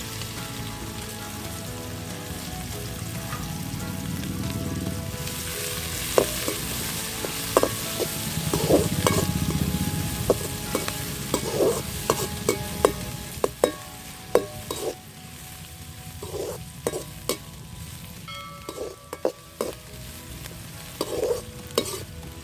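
Onion frying in oil with popped mustard seeds, a broad sizzle giving way to repeated spoon scrapes and knocks against the pan as it is stirred, close and fairly loud.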